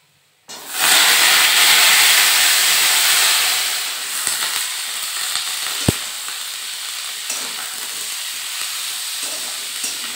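Pumpkin and green chillies hitting hot oil seasoned with nigella seeds and garlic, a loud burst of sizzling that settles into a steady, close frying hiss with a faint clink of a utensil.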